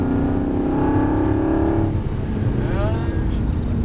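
An Aston Martin V8 Vantage on a track, engine note rising steadily as the car accelerates, then shifting to a higher whine, loud and heard from inside the cabin beneath a voice speaking.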